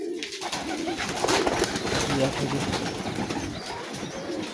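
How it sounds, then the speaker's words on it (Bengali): Pigeons cooing close by, soft repeated throaty calls over a busy background of birds and rustling. "আমি কবুতরে এখানে ডিম নিয়ে বসে আছে"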